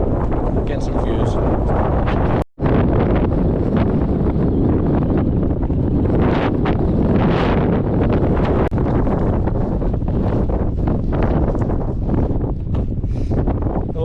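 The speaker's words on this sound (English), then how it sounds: "The wind's definitely picking up now." Strong, steady wind buffets the microphone on a Scottish mountain, Schiehallion, a loud continuous roar with gusty swells and a brief cut-out near the start, filling the whole stretch without any speech.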